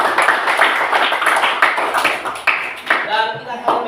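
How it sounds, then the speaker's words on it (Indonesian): An audience claps for the second presenting group in a classroom, a dense burst of hand claps with a voice speaking over it, tapering off near the end. "Mari sekali lagi kita berikan aplaus buat kelompok 2"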